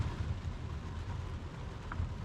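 Heavy rain pours steadily in a forest near Gokarna, a dense continuous hiss and patter with low rumbling, no voices heard.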